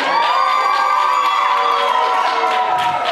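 A comedy club audience at a cocktail lounge cheers and whoops loudly at a stand-up show. The crowd's shouting is continuous and close.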